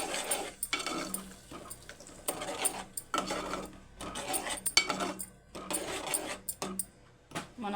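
A tomato dish is stirred in a pan, spoon scraping and clinking against metal in repeated rhythmic strokes with brief pauses, close and fairly quiet.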